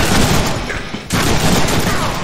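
Dense, continuous gunfire from the Deadpool video game during a nightclub raid, a loud sustained fusillade with a brief break about halfway before the shooting resumes.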